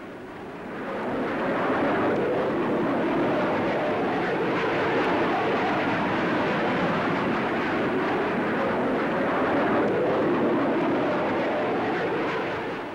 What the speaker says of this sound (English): Powered by four Rolls-Royce Avon jets, this aircraft will fly from London to Johannesburg